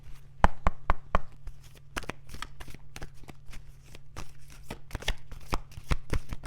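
Rumi oracle cards are shuffled by hand in a string of crisp riffling snaps and soft slaps, irregular bursts close by over a low steady hum.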